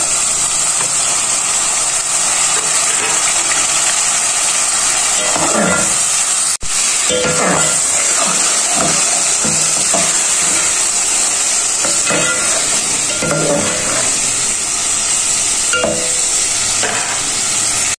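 Minced meat frying with green chillies and tomatoes in a pan, a steady loud sizzle with repeated scraping stirs and one sharp knock, no voices.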